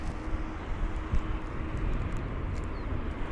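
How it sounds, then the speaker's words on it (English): Airbus A321neo jet at London Heathrow airport, a steady broadband engine roar heard at a distance and holding even throughout, with faint background voices. "it is quite a nice one to see, the A321neo aircraft"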